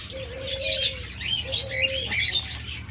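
Caged lovebirds, cockatiels and budgerigars chirp in a busy chorus of bright, overlapping calls, with two longer steady whistle-like notes standing out near the front and a fairly loud, continuous level throughout.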